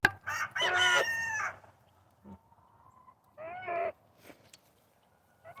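A pet cackling goose makes loud, close honking and cackling calls while eating: two long harsh bursts separated by quiet pauses, with soft pecking and clicking sounds between them.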